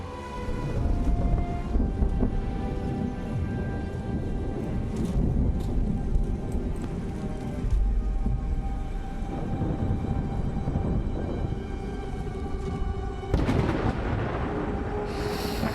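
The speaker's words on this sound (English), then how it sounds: "The storm is here." A thunderstorm in the tactical RPG Solasta II: steady heavy rain with a broad rumbling roar throughout and a louder thunder swell near the end, with no talking.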